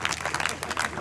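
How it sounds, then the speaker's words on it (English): Brief burst of audience applause at an outdoor young people's convention, a dense patter of clapping from a crowd, moderately loud and continuous over the short moment. "can we get a round of applause for the host committee?"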